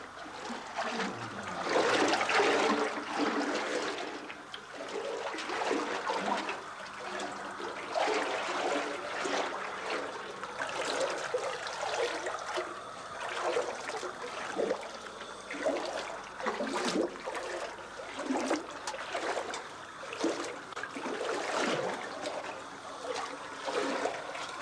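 Water trickles and seeps into an underground Persian qanat channel, a steady close splashing and dribbling echoing in the tunnel, with faint irregular knocks and movement.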